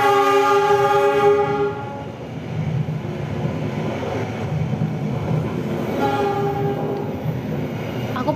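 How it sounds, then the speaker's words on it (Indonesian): A train passes close by, with a loud sustained rumble of rolling wagons and a horn sounding near the start and again later, no talk over it. "ada suara kereta lewat nih kalau berisik"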